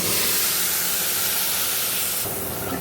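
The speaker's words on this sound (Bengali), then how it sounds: "দেখো আলুটা একটু ভেজে নিলাম" Potato pieces fry in hot oil in a pan, giving a loud, dense, steady sizzle that shifts in tone briefly near the end.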